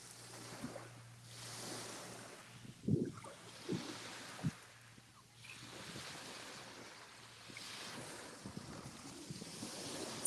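Sea waves wash onto a beach in Spain, a soft continuous surf with wind buffeting the microphone and a few faint knocks, fairly quiet and distant with no voices.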